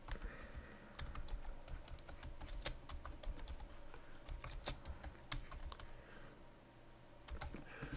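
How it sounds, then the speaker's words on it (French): Fast, uneven typing on a computer keyboard, with crisp close key clicks and occasional louder presses in a quiet room. "je vais taper."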